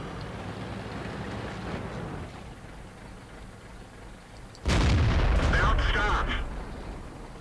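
A tank's main gun fires in a World of Tanks battle, one loud, close boom that lands about two-thirds of the way in and rumbles briefly. It rises over a steady bed of engine and battlefield noise, with a voice talking underneath.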